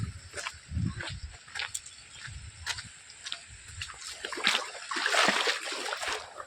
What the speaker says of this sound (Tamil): நீங்கள் அப்படியே அருவிக்கு போகலாம்,